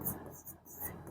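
A short, faint burst of scratchy strokes as someone writes on a board during a physics lesson on superconductivity and electrical conduction, the scraping coming in two quick bursts around soft talk.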